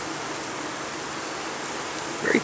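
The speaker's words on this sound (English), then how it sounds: "Very calm bees though." Calm honey bees from a newly caught swarm buzz in a soft, continuous hum at an opened hive, ending with a brief louder rustle up close.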